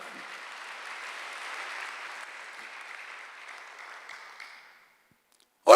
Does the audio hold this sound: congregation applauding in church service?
yes